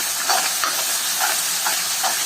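Chopped tomatoes sauté in a pan for rice and toor dal kichdi, giving a steady, close hiss with faint soft stirring pulses and no talking.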